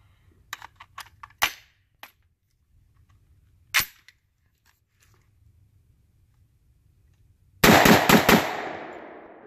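A 6.5 rifle fitted with a piston system fires in semi-auto: sharp, loud cracks outdoors, a quick cluster of several shots, a lone shot after a pause, then a rapid burst of four or five with ringing decay.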